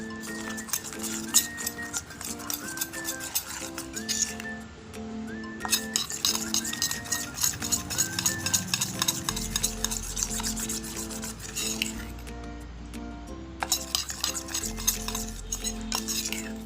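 A spoon clinks and scrapes steadily around a bowl while a flour slurry for veg patties is stirred, rhythmic metallic taps over background music, with no talking.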